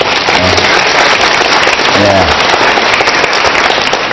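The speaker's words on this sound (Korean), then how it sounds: "추운데 박수라도 좀 치시죠" Students at an outdoor economics lecture on a cold day applaud, giving a steady, loud wash of many hands clapping with no breaks, and a voice speaks briefly underneath.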